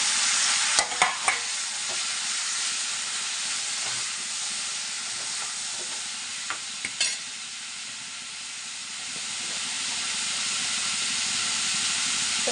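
Cucumber pieces fry in a hot pan for a Telugu-style cucumber curry, giving a steady loud sizzle and hiss with a few sharp clatters of stirring near the start and around the middle.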